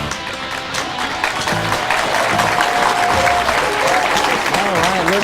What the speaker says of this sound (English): they're still cheering loud for you out there